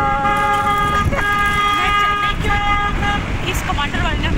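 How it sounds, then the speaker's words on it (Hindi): A car horn honks repeatedly from an overtaking Commander vehicle on the road to Rishikesh. Loud, sustained tonal blasts of varying length sound over continuous road and engine noise, with voices in the background. "इसने बजा बजा के इसने हॉर्न हमारा दिमाग खराब कर दिया"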